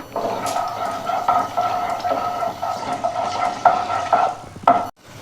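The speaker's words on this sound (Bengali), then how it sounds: "প্রথমে দিয়ে দিলাম দুটো শুকনো লঙ্কা অল্প এলাচ দু টুকরো এলাচ দু থেকে তিন টুকরো এলাচ আর মেথি এটা একটু সামান্য ভাজা হোক" Dried red chillies, cardamom and fenugreek seeds frying in hot oil in a pan, a steady close sizzle with small crackles and stirring clinks throughout, ending abruptly.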